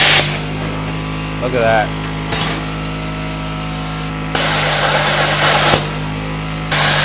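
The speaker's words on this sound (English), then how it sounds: "You can hear the air compressor dip a bit when this thing cranks up." An Arc Captain 50 amp plasma cutter runs beside an air compressor, making a loud hissing rush that cuts in and out in bursts over a steady motor drone. Someone speaks briefly.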